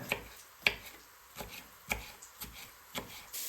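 A knife chopping food on a board while cooking a Jamaican and English breakfast: about seven crisp, evenly spaced taps, close and fairly quiet, with no talking.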